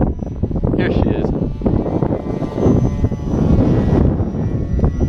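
FT22 RC model airplane climbing out and flying at full throttle in an extreme snowstorm, a steady loud motor whine mixed with heavy wind buffeting on the microphone, near and continuous.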